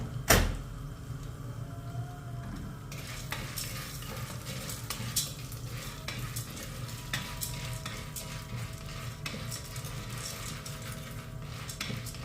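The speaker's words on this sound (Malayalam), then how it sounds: "നമ്മൾ നല്ലോണം അത് മിക്സ് ചെയ്യണം. ഉപ്പും എല്ലാം പറ്റി കിട്ടാൻ." Popcorn being stirred with salt in a pan, a steady scraping and rustling close up with continuous sizzle and occasional clinks of utensil against metal, no talking.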